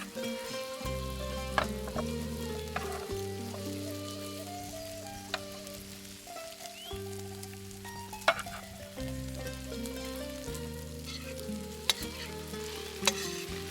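Beets frying in a pan, a close, steady crackling sizzle with occasional sharp pops, heard under soft background music.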